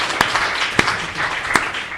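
Audience at a careers talk claps in a light, scattered way, with a few distinct sharp claps standing out over a soft ongoing patter; the sound is close, brief and free of speech.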